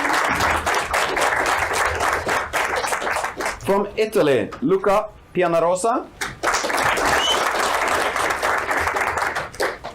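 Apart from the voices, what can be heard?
audience applause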